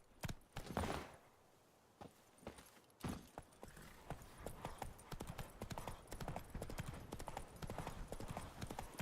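Horse hooves clip-clopping at a rapid, steady gallop in The Witcher 3 video game, running continuously with a brief pause, close and fairly loud, with a faint voice at times.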